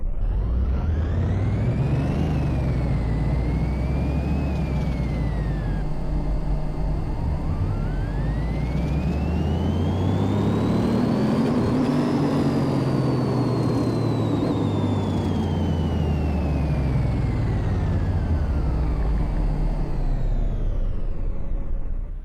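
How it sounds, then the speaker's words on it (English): A McLaren Senna engine in Car Mechanic Simulator revs hard on a dyno, a loud continuous roar that climbs and falls through several sweeping pitch ramps, with no talking over it. "let's see what we get here running it on the dyno"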